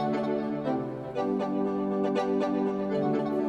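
The Analog Lab synth preset Intergalactic Heartbeat plays a rich, sustained electronic tone, with a built-in arpeggio adding quick repeated pulses on top, loud and clear with no voice.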